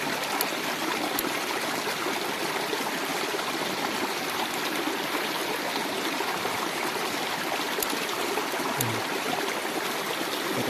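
A river runs steadily close by, a constant rushing and gurgling wash of flowing water at even level, with a few faint clicks near the start and end and no voices.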